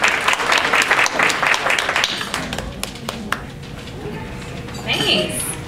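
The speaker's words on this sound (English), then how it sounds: "Let's give a round of applause to Ms." A live audience at a talk claps in a burst of applause that fades out over a few seconds, followed by quieter room sounds and a brief voice.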